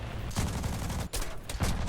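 Aircraft machine guns firing in War Thunder, rapid bursts of rattling gunfire broken by brief pauses, loud and close with no talk over it.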